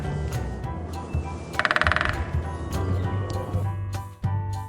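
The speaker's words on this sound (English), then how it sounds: "This bird is hitting the wood with its beak to make this noise." A woodpecker hammers wood with its beak in one brief, rapid drumming burst, heard over a steady musical background.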